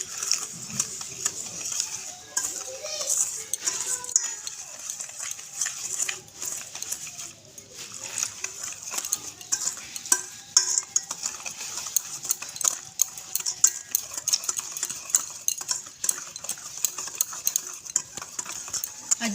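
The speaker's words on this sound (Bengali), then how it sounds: "আর যত ভালো করে ফেটানো হবে তত কিন্তু কেকটা ভালো হবে" A batter of biscuit and water is beaten in a bowl for an eggless cake, giving quick, faint, rhythmic tapping and scraping strokes over a soft background hiss.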